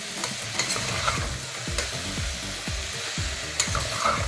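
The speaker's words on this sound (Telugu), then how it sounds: "ఈ వంకాయ ముక్కలకి అల్లం వెల్లుల్లిపాయ పేస్ట్ బాగా పట్టే వరకు ఒక్కసారి ఇలా ఫ్రై చేసేసుకుందాము" Eggplant pieces frying with ginger garlic paste, a steady close sizzle with repeated stirring and scraping of a spoon against the pan, no voices.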